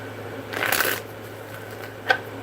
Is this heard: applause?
no